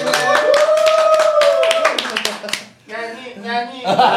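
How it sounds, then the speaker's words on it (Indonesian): An audience claps briefly at a hosted talk-show taping, a scattering of sharp hand claps mixed with loud voices and a sustained sung or drawn-out vocal tone, followed by more talking. "Tepuk tangan dulu dong semuanya."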